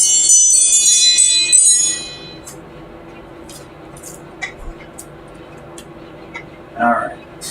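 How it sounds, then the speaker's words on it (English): A quiet chiming alarm on a clock picked up at a flea market rings out as a brief cluster of bright, bell-like tones at the start, fading quickly into a faint room background with light handling noises. "I'm gonna pick a quiet alarm. It chimes."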